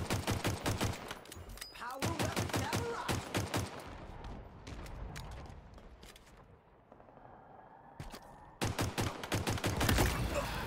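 Rapid DMR rifle gunfire from Halo 3 Refueled in Halo Infinite, sharp repeated shots in bursts, dense at the start, thinning mid-clip, then resuming loudly near the end, with game sounds between.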